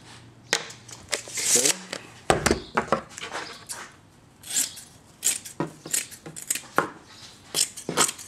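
Scissors snip through fiberglass cloth in a series of short, crisp cuts at an irregular pace, close and fairly loud, with a few heavier handling sounds between them.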